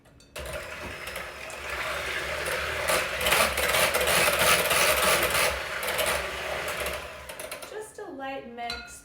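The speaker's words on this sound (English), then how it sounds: "I'm going to mix it up with my electric hand mixer." Electric hand mixer whirring through cinnamon bun dough with an egg, a steady motor drone with rattling beater texture lasting several seconds before winding down, while a voice speaks over it near the end.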